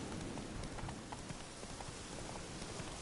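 Roach, the horse in The Witcher 3, gallops with steady, rapid clip-clop hoofbeats running throughout, fairly quiet and set against a constant hiss of background noise.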